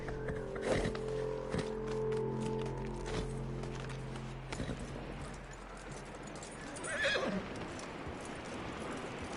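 A horse neighs and whinnies, then clip-clops at a gallop through a video game scene, with steady hoofbeats over ambient noise and a brief voice passing in the background.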